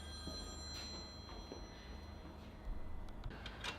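A telephone rings faintly in the background with a few brief bell-like bursts over low room rumble, distant and quiet, with no speech.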